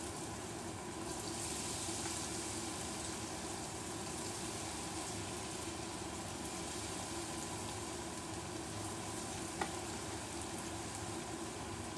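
Battered vegetable tempura frying in hot oil, a steady close hiss and crackle running unbroken throughout.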